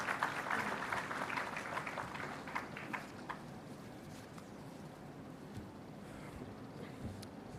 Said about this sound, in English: Can I have a round of applause for the Air Marshal